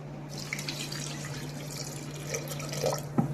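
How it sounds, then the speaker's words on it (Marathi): Water running from a tap or poured steadily into a pot of soft, fully cooked toor dal for Maharashtrian varan, a continuous close trickle with a faint drip and clink near the end. "आता आपल्याला यामध्ये पाणी ओतायचं आहे।"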